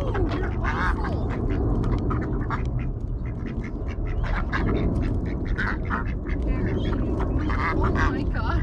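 Ducks quack repeatedly and densely at close range while being fed by hand, with people talking and laughing over the constant flock noise.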